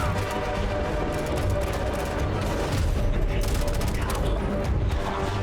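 Rapid, dense bursts of AK rifle fire in the video game Starfield, a continuous rattling volley running the whole time under layered game sound effects and music.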